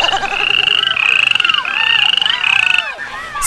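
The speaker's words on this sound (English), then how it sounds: "saw a number of frogs in the water" Frogs in a pond croak loudly and close by in rapid, pulsing trills, several overlapping calls repeating in bursts before a brief pause.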